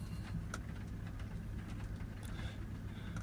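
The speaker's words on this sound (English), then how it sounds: "the combustion engine is running" A Mercedes E220 diesel engine idling during a particle filter diagnostic procedure, a low steady rumble heard faintly and evenly throughout with no talk.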